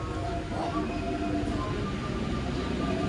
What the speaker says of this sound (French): c'est le beau métro